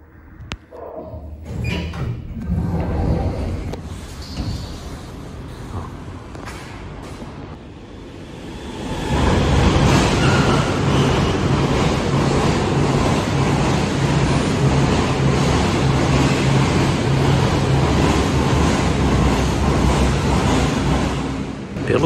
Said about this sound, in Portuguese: isso foi um trem que passou em alta velocidade